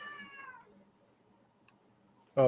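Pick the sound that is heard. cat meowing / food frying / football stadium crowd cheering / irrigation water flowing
cat meowing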